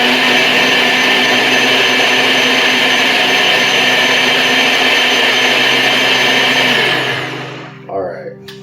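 A blender whirs loud and steady as it runs a thick vegan meal replacement smoothie, then winds down and cuts off near the end, leaving brief quiet handling noises.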